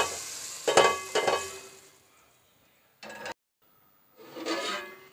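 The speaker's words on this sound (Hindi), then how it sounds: "दाल पर तड़का डाल देती हूँ।" Short bursts of sizzling hiss as hot tempering hits cooked lentils, two quick splashes, a pause, a brief crackle, then a longer fading sizzle.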